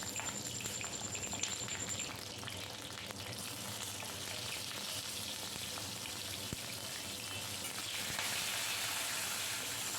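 Eggplant pieces fry in oil with salt and turmeric, giving a steady, dense sizzle and crackle that carries on without pause, close and moderately loud, with no talking.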